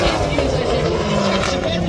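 A drift car slides through a corner at a drift festival in Rosegreen, Tipperary, its engine a loud, sustained droning roar under an excited commentator's talk.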